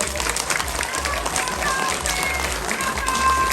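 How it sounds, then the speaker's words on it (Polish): Crowd applause at an outdoor charity concert, a steady dense wash of clapping lasting a few seconds at fairly close range. "Wielkie brawa!"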